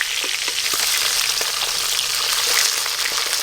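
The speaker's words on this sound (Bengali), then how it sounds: "মাছের মাথাগুলো ভালো করে ভাজা হয়নি, আর একটু ভাজবো।" Loud, constant crackling sizzle of fish heads frying in hot oil, close up, with a few light pops and no speech.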